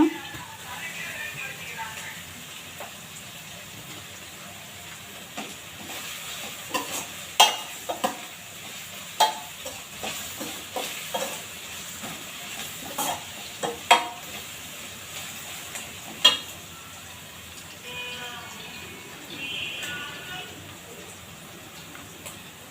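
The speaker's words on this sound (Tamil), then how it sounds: "வெங்காயம் ரெண்டு பச்சை மிளகா போட்டு நல்லா வதக்குறேங்க" Onions and green chillies sizzle and are stirred in a pan, with scraping clinks of a utensil scattered through a steady hiss, a voice faintly present.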